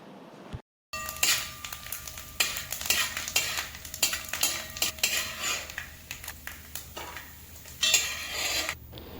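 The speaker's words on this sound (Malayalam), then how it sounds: "ഒരു പാനിലേക്ക് 2 സ്പൂൺ നെയ്യ് ഒഴിച്ച് തേങ്ങാക്കൊത്തിട്ടൊന്ന് വറുത്തെടുക്കുക" Coconut pieces frying in two spoons of ghee in a pan for Onam payasam, with a low steady sizzle under frequent metallic scrapes and clinks of a spoon stirring, close and fairly loud after a brief silent gap near the start.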